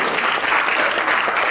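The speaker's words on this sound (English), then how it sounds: "Please hold your applause until the end." Audience applause at a film talk by a Dallas film commissioner, a steady dense wash of clapping filling the room, loud and continuous with no speech.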